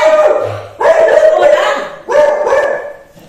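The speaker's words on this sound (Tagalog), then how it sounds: "Nakakatakot yung aso." A dog at a rural house and lot with farmland gives three loud, close barks in a row, each ringing briefly before the next.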